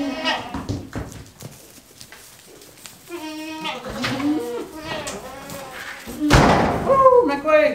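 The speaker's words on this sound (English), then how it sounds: "Let's go see these other goats." Goats on a farm bleat in wavering, drawn-out calls, several overlapping and close by, with a few thumps and people talking among them.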